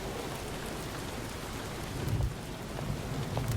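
Steady rain hisses evenly throughout, with low rumbles of thunder swelling faintly in the background during the second half, and no voices.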